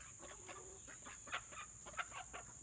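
Hens clucking softly and repeatedly in a farmyard as a duck grabs hold of one, the calls moderately close over a steady high-pitched background hum.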